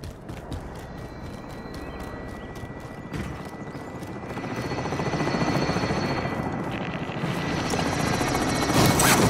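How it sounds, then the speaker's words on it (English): In the Warzone video game, an extraction helicopter arrives with a steady, throbbing rotor chop that grows louder and nearer, a fast clattering pulse that continues throughout. "Extraction helo is ready for pickup."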